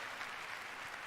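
A press conference audience claps in a steady, faint patter of applause lasting about a second, with no other sounds.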